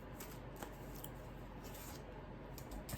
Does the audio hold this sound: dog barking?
no